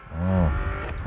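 Car tires skidding in a racing video game, a short tonal squeal rising over a loud engine drone, close and brief.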